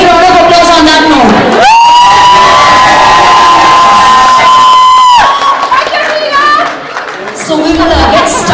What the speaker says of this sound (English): a big round of applause on that note